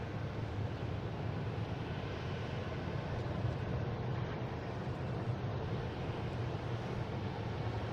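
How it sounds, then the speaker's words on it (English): An Airbus A320 jet airliner at Boston Logan International Airport produces a steady, broad engine roar that holds evenly throughout, with some wind buffeting over the microphone and no voices. "This one's heading to JFK in a 320 flight 317."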